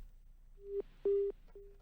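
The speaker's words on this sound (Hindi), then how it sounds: "प्रांशु का फोन डिस्कनेक्ट हुआ" A telephone busy tone after a disconnected call: a steady mid-pitched beep pulsing on and off, one short, one longer and one trailing tone, quiet and alone with no voices.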